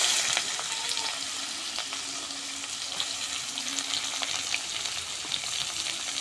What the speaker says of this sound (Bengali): খুব সুন্দর করে আমরা ভাজে দেব।